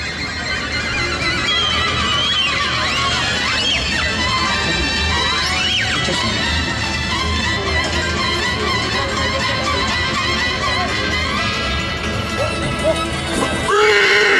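At a horse parade in Baia Mare, Maramures, horses whinny and neigh repeatedly amid a loud, constant crowd and outdoor din, with hoof clatter mixed in.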